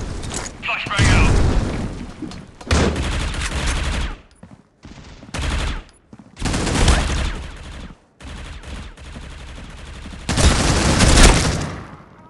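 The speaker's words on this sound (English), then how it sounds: "Tossing frag. Flash frag out." Loud bursts of gunfire and heavy grenade booms in the mobile shooter Critical Ops, with rapid fusillades separated by short gaps and a big blast near the end.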